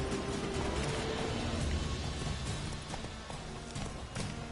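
Roach the horse galloping in The Witcher 3: Wild Hunt, a steady close rapid clip-clop of hoofbeats over loud continuous game noise.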